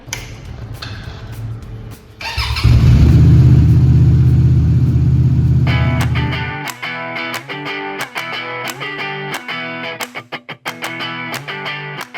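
SRV 250 AMT V-twin motorcycle engine revs up into a loud, deep, sustained roar for about four seconds, then fades. Music plays before and after.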